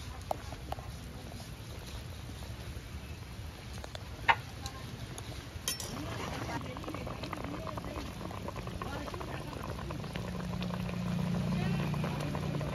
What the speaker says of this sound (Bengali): ঢাকা দিয়ে 5 মিনিট ফুটিয়ে নেব